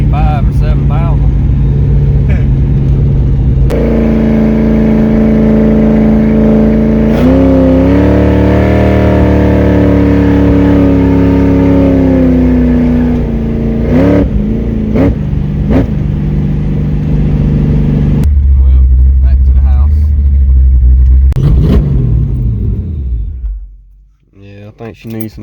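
A 363 stroker Mustang V8 accelerating hard during a ride along, loud close engine roar climbing through the revs with gear changes and rising pitch, then easing off near the end.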